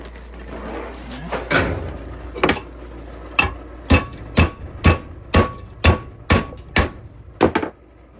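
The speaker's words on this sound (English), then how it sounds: "at a point where we can start using the hammer." Sharp metallic hammer blows ring out on a heated steel Mauser rifle bolt, a few scattered strikes then a steady run of about ten evenly spaced hits, close and loud.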